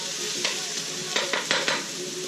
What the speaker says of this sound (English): A little sizzle. Hear that?